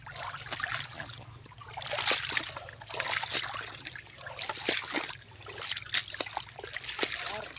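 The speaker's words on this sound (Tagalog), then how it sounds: "Nilililig po natin dyan sa talong natin." Water trickling and splashing steadily as eggplant plants are watered in a small farm garden during a dry spell, a continuous close pouring wash with light spatters.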